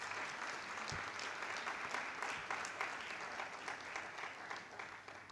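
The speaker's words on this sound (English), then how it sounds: "I think he deserves a big applause for that." Audience applause at a public lecture on the direct tax provisions of the Finance Bill 2023, a steady, fairly soft wash of clapping from a seated crowd that holds for about five seconds before easing slightly.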